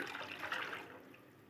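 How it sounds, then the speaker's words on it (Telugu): Water poured into a cooking dish, a faint, brief splashing trickle that fades within about a second. "కొంచెం వాటర్ అనేది యాడ్ చేసుకోవాలండి."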